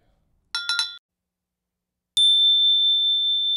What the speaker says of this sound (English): Some of those high bells.